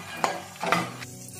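Fox nuts (makhana) frying in a spoonful of ghee, with soft sizzling and a couple of stirring scrapes from a spoon in the pan, brief and close.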